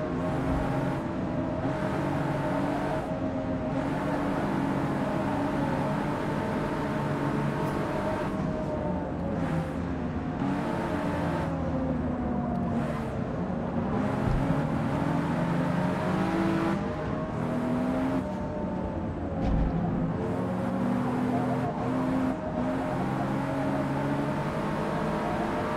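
Racing car engines in the video game Forza Motorsport roar and rev continuously with a steady whine, several cars accelerating hard together at high volume.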